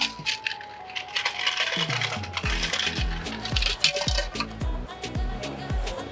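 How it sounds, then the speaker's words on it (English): Ice cubes tumble into a festive punch of ginger ale and sparkling water, giving a rapid run of bright clinks and clatters against the glass, close and fairly loud with no talking. "a little bit more ice"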